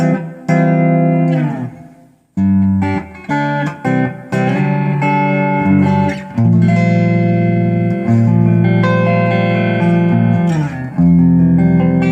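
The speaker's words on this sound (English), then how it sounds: "Nice lush sounding reverb" Electric guitar through a Bugera T50 Infinium amplifier with lush reverb, notes and chords ringing out and trailing off into a wash of echo.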